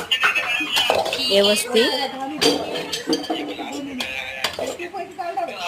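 A spoon clanks and scrapes against a pot while spicy village-style chicken curry is mixed, busy metallic clatter close by, with a person speaking briefly.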